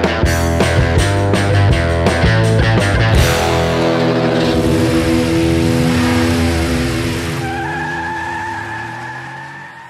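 A 2018 Bentley Flying Spur's engine revs loudly in several sharp bursts, then settles into a long smooth drone as the car drives on, fading slightly toward the end.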